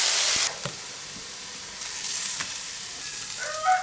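Garlic frying in hot oil in a wok on a rural clay stove, a loud broadband sizzle for the first half second that then drops to a steady softer hiss with occasional stirring scrapes, no talking.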